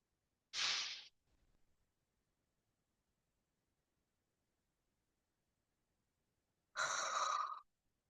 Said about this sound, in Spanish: Puede pasar esto que me acaba de pasar, bostezo.